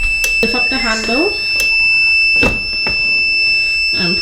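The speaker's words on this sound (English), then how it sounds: "press this to stop the beeping" A sublimation heat press gives a steady high electronic beep when its cycle finishes, close and continuous while a person talks over it.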